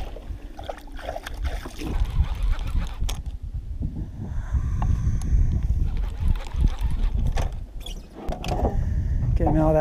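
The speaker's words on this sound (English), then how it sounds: "Motor." Boat motor running on open water during a catfish drifting trip, a loud, rough low drone mixed with wind buffeting on the microphone, swelling steadily louder over the stretch.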